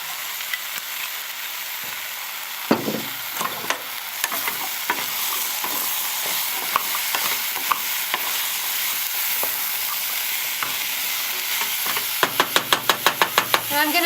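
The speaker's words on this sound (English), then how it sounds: "So I'm going to add the carrots to this and let those saute." Carrots sautéing with onions in oil in a pan for a carrot ginger turmeric soup, a steady sizzle broken by scattered utensil knocks and stirring scrapes, ending in a quick run of rapid taps.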